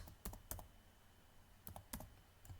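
Keys clack on a computer keyboard in two short bursts of quick taps separated by a pause, close and fairly quiet, with no talk.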